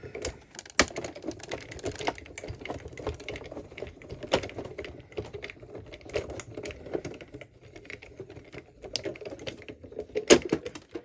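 A Cuttlebug die-cutting machine is cranked by hand to cut outline dies, giving close, irregular clicking and ratcheting taps with a few sharper knocks, with no voice.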